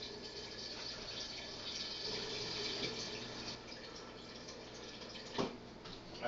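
Water pours steadily into a pot, about a gallon, being measured for a batch of mead. The rushing stream is a quiet, continuous wash with one brief splash near the end.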